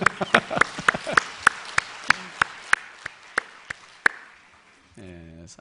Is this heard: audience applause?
yes